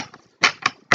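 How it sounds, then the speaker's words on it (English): Tarot cards riffle-shuffled in three quick crisp bursts, the paper edges snapping close and alone with short pauses between. "I'm shuffling on camera, y'all"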